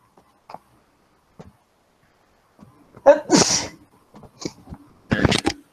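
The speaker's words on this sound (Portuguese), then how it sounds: "Não ia espirrar no ouvido de vocês" Two sharp sneezes burst out close by in a quiet microbiology lab next to an autoclave, with a few faint soft sounds before them.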